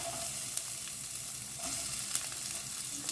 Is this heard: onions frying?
yes